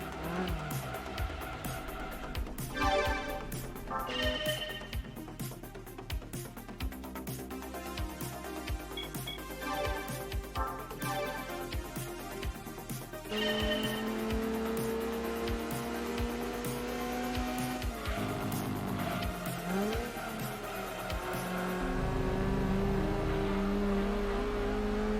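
Race car in Gran Turismo 2 on PS1, its engine whining and climbing through revs with shifts and tire squeal, a steady synthetic drone running the whole stretch without talk.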